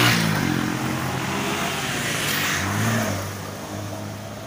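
A 1972 Volkswagen Beetle with a 1500 air-cooled engine runs close by, a steady low rumble that rises slightly in pitch around the middle before settling back to idle; no voices.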